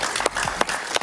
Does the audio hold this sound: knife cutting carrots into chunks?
no